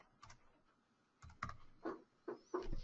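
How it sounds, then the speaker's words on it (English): Keys clatter on a computer keyboard while entering values into drainage cross-section software, a few sparse, close taps followed by quicker clustered keystrokes in a quiet room. "typing in the wrong field here"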